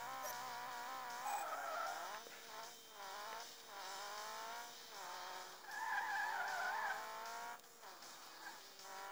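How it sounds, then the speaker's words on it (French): A car drifts in the Rally Fury video game, its tires skidding and squealing in long wavering screeches over a steady engine drone, rising and falling through repeated slides with no talk. "tu vois le bruit de cette voiture?"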